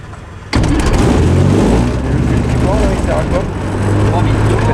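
A microlight (ULM) engine fires up abruptly after a quiet moment, then runs loud and steady with a rough, revving drone close by, easing slightly before climbing again.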